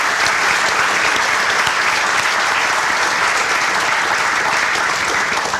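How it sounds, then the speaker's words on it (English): A large crowd applauds at a stadium groundbreaking ceremony, with dense, steady clapping that stays loud and even throughout. "Let's give these folks a big round of applause."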